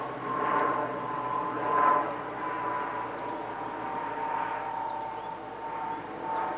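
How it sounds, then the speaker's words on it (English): A propeller airplane passes overhead outdoors on a sunny summer day, a steady droning hum that swells and fades in slow waves, moderately loud and continuous throughout with no talk. "What kind of an airplane is that? Is that an old-fashioned airplane or a new one?"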